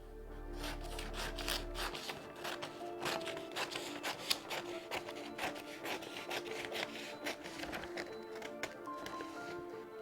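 Scissors cut roughly around a paper sewing pattern for a shirt, giving a rapid run of crisp snips and rustling paper close by, after a brief low hum at the start.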